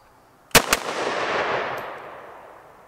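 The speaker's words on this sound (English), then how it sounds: "We're going to come up, fire 2 rounds." Two sharp pistol or rifle shots in quick succession at an outdoor shooting range, loud and close, each followed by a long echoing rumble that slowly fades.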